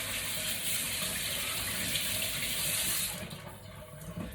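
Leeks rinsed under a running kitchen tap, a steady rushing stream of water splashing into the sink that eases off and turns softer and more broken in the final second.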